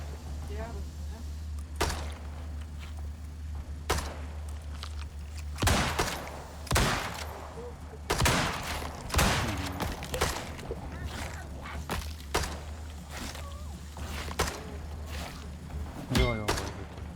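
Gunfire in the video game Icarus, a scattering of distant sharp shots and thumps spaced irregularly over a steady low hum, with voices talking throughout.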